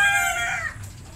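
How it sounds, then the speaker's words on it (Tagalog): A rooster lets out a single loud, close crow that falls away into quieter yard noise. "Pag ganyan umaga, napakaingay. Tilaukan ng tilaukan."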